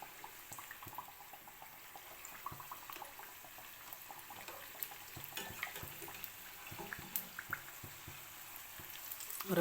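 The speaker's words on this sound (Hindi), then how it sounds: "मीडियम फ्लेम पे ही गोल्डन कलर आने तक इसको फ्राई करूँगी।" Samosa pops frying in hot oil over a medium flame, a steady soft sizzle with scattered faint crackles and pops throughout, fairly quiet and close.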